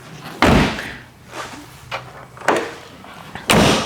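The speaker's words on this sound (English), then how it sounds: "We'll go ahead and close this up." The rear cargo door of a 1999 GMC Yukon SLE swung shut, a loud nearby slam followed by softer thumps and a second firm latching slam at the end.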